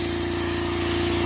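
Continuous hiss of a spray gun fed straight from a small air compressor for light painting jobs, the compressor's steady low drone running underneath, close and unbroken.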